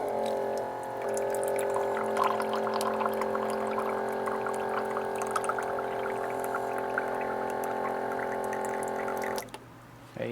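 Water pours steadily into a container in a home kitchen, with a close, continuous splashing stream that lasts about nine seconds and then cuts off abruptly. No one speaks.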